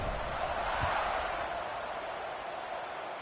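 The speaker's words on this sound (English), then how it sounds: "this crowd is buzzing after that last score" Steady, dense crowd murmur fills a College Football 26 video game stadium after a score, a continuous broad roar with no distinct cheers or talk, holding level throughout.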